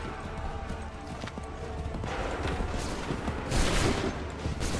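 Musket volley fire in Assassin's Creed III: broadband crackling bursts of massed shots over a steady battlefield din, with the heaviest volley near the end.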